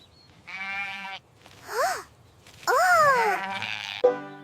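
Farm sheep bleating in several separate calls, close and clear with wavering, rising and falling tones and short pauses between them.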